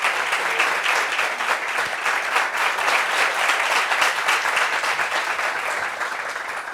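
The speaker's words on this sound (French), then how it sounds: "Applaudissements pour lui, s'il vous plaît." A studio audience on a French talk show breaks into sustained applause that fills the whole stretch at an even, loud level, with no talk over it.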